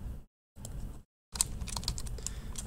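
Brisk typing on a computer keyboard during a math lesson, quick clustered key clicks close to the microphone in two short bursts and then a longer run, with no talking.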